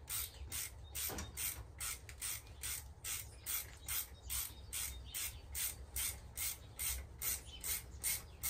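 Nuts on a water heater fitting are tightened with a steady, rhythmic run of close metallic ratcheting clicks, with no voices present.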